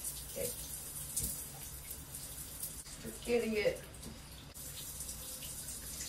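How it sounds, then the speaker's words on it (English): Water runs steadily from a shower at home, a soft continuous hiss with a brief louder splash in the middle, while a person speaks a few words close by. "So we're gonna like take a shower"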